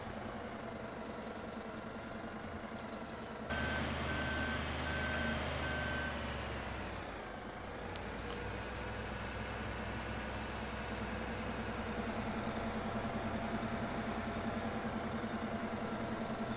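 A JCB tractor in Farming Simulator 17 idles with a steady engine drone while evenly spaced reversing beeps sound for a few seconds, then the engine keeps running alone.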